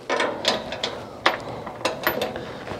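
A hand ratchet clicks in several short bursts while tightening a safety bolt on a 1967 Camaro during a windshield fitting, sharp and close, with quiet pauses between strokes.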